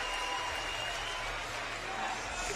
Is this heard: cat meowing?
no